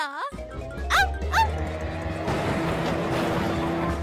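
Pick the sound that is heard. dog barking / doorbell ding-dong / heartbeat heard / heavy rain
dog barking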